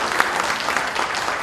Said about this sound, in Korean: 다시 한번 그 오석 신임 총회장 당선자에게 큰 박수 부탁드리겠습니다